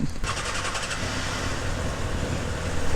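A 2025 Kawasaki Ninja ZX-6R 636cc supersport motorcycle engine drones steadily and loudly while the bike is ridden, with a brief higher rev at the start and constant wind rush.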